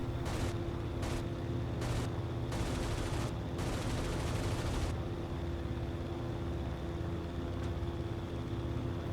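Anti-aircraft flak fire in the IL-2 flight combat game sounds as a series of sharp, crackling bursts, several short ones and then two longer rattling salvos, over a constant loud aircraft engine drone that continues after the firing stops.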